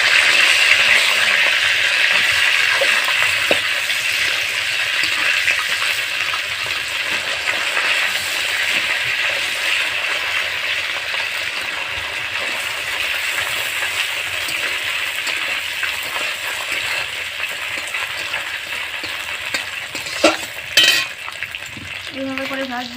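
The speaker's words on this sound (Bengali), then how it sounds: "এইভাবে করে ভাজবো, খুব ভাঙবো না" Fish heads frying in hot oil, a loud continuous sizzle that fades slightly over time, with occasional stirring scrapes and a few clinks of a utensil near the end.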